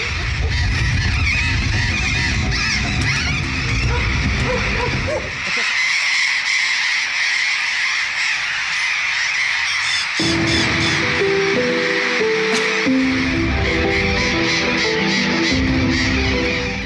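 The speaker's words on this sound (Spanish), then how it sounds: "Un pueblo invadido por los loros." A loud flock of parrots squawks and screeches continuously across a town that the birds have overrun, a dense harsh chorus that keeps going throughout with only brief shifts in the background.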